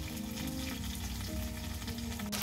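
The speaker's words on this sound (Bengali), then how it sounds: "আদা বাটা, আদা জিরা বাটা ভালোভাবে ভাজা নিব যাতে কাঁচা গন্ধ না আসে।" Ginger and cumin paste frying in hot oil with spices for a hilsa head and taro greens curry, a steady dense sizzle with occasional stirring, no voices.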